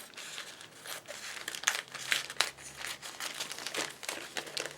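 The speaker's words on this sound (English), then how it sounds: "I'm going to cut through this." Scissors cutting through a single sheet of card paper: a series of crisp, close crinkling snips and rustles in an uneven rhythm, fairly quiet, with no talking.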